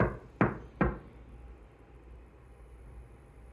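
Two sharp knocks on a wall inside an old historic house, spaced about half a second apart near the start, followed by a quiet room hum.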